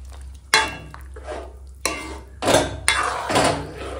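A spoon scrapes and clatters through vegetables simmering in milk for shukto, several distinct stirring strokes against the pot, close and clear over a low steady hum.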